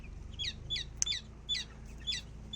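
Chicks let outside in the sun peep in short, bright chirps, several small calls spaced across the moment with a faint low hum underneath and no voices.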